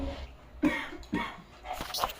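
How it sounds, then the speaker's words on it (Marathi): Two or three short, husky coughs close up, followed by a softer throaty rasp. "तुला खोकला कसा आला माहिती का"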